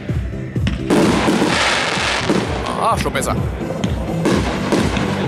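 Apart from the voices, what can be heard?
firework battery MZ4, 64 shots, 30 mm caliber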